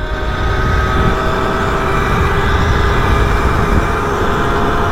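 A Kugoo Wish 01 electric scooter runs at top speed after a firmware update and derestriction, with loud continuous rushing wind and road noise over a thin, steady electric motor whine.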